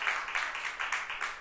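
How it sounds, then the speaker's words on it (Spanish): Scattered applause from a church congregation, a few rhythmic rounds of clapping at moderate distance, steady and brief with no voices over it. "Démosle un fuerte aplauso al Señor"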